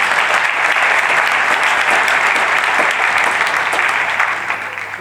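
A concert audience at a high school spring concert applauds in a loud, dense, continuous wave of clapping that eases off slightly near the end.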